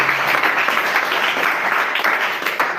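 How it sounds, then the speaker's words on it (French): A church congregation at a live worship service claps and cheers loudly in a dense, continuous burst, close and energetic for the whole short stretch, with no distinct speech over it. "Acclamez très fort pour la gloire du Seigneur"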